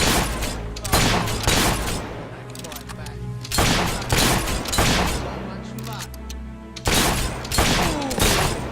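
Rapid bursts of gunfire in the Fable 3 video game, volleys of overlapping shots separated by brief pauses, loud and close, with voices in the game speaking among the shots.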